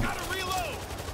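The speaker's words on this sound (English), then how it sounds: "I like the sentry gun placement." Sentry gun firing in a World War Z horde-mode match, dense continuous gunfire with other weapons mixed in, loud and busy throughout with game effects layered over it.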